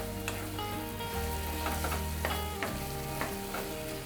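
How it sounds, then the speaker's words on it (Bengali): Chilli hits a frying pan already holding chilli paste and sizzles in a steady, close hiss of frying, with intermittent scraping as the pan is stirred. "লঙ্কা অল্প দিচ্ছি, কারণ লঙ্কা বাটা দিয়েছি"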